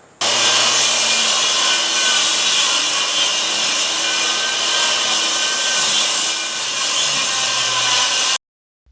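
A saw cuts steadily through oak bowling alley wood, guided along a steel guide beam, producing a loud, continuous rasping cut that runs unbroken for about eight seconds and then stops abruptly.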